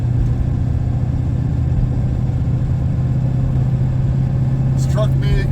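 A vintage diesel truck pulling gears at roughly 2,500 RPM while hauling water with a trailer gives off a steady, loud, low engine drone that holds unbroken for the whole stretch.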